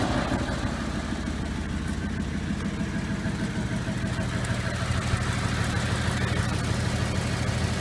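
A 1956 Ford Thunderbird engine, restored and still cold, runs at a steady idle, a constant low hum with a rumbling undertone lasting throughout with no clear start burst.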